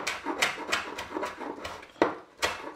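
A knife chops through rolled-up parsley on a wooden board, a quick series of evenly spaced, crisp taps, close and fairly quiet, with no talking.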